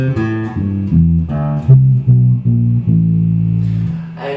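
Bass guitar on the thickest string plays a short scale up and then back down, about eight plucked notes in steady rhythm, solo and close, the last note ringing out.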